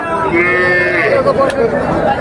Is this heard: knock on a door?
no